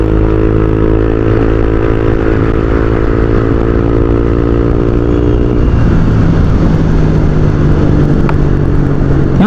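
A Honda Click 125i scooter fitted with an MT8 racing exhaust idles with a loud, steady burble, then is blipped into rough, popping revs, close and alone throughout.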